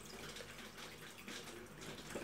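Water runs steadily into a bathroom sink as a child rinses their mouth and spits, a soft, continuous splashing close by, with no voices.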